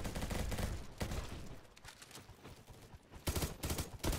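Gunfire in a video game, rapid bursts of shots in quick succession, fairly quiet overall, with a denser cluster of loud cracks near the end.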